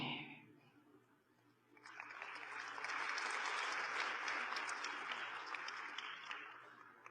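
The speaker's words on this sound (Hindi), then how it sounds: "आपने अपने लिए ताली बजाई" Audience applause in a talk on living a beautiful, happy life, rising after a brief quiet stretch into steady, dense clapping that fills the room and holds for several seconds.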